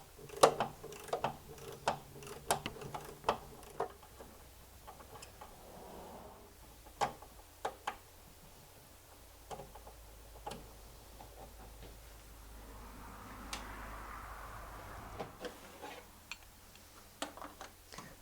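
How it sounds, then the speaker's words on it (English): A wrench works a bolt loose from the firewall of a 1943 Willys MB jeep, giving faint, sharp metallic clicks in irregular bursts, with quiet pauses between them and no talking. "I'm going to reach around with a wrench so I can take this off."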